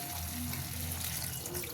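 A small splash of water is poured into a cooking pot of boiled potatoes and grated ginger, a soft continuous close trickle lasting under two seconds.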